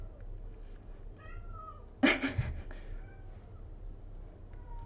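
A pet cat meows loudly once, a sharp drawn-out call rising above a quiet room, with a few faint softer cries before and after.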